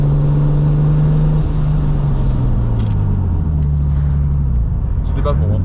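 BMW E36 325i turbo car with a big brake kit, its engine droning steadily from inside the cabin as it accelerates and slows, the pitch rising and falling, with no voices.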